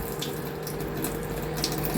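Water pouring from a spoon onto cooked rice in a home kitchen, a steady close trickle that runs without a break over a low background hum.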